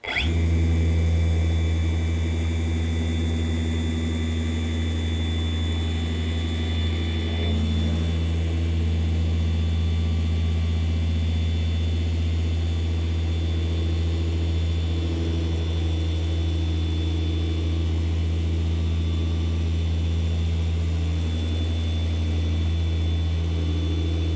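A car polisher running at around 5,000 RPM on a vehicle panel, a steady close mechanical whine and hum with strong tonal drone, continuous and unbroken for the whole stretch.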